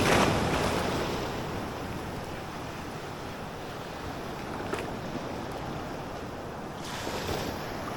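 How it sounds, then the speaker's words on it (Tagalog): Ocean waves crash and wash along the shore at a fishing spot, a loud broadband roar that swells at the start, settles into a steady rush with wind buffeting the microphone, and surges again near the end. "Anong alon to?"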